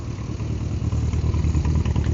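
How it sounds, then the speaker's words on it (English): A Volvo P1800 engine runs steadily through its exhaust, a close, loud low rumble with a slight pulsing throb and no talk over it. "P1800. Great sounding exhaust."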